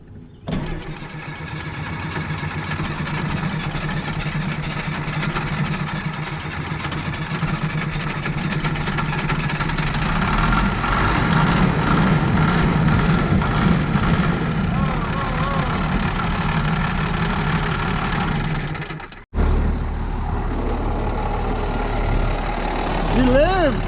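A Kubota U55 mini excavator's engine runs steadily, a loud low rumble that rises as the throttle is worked, cuts out abruptly near the end, then resumes, with people talking over it.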